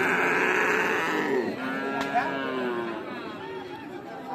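A Friesian bull at a busy cattle market lets out a long, loud, drawn-out moo close by, with crowd chatter and market noise running underneath.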